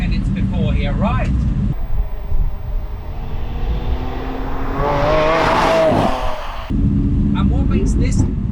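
Lamborghini Aventador SV engine heard from inside the car, a deep rumbling drone that rises into a strained, higher-pitched rev in the middle before dropping back to a low idle burble, with a voice talking over parts of it.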